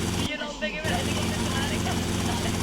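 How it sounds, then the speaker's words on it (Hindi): A helicopter in the GTA Vice City video game drones with a steady rotor and engine roar throughout, loud and continuous, while someone talks over it. "मेरे को जेंगो हेलीकॉप्टर चलाना है"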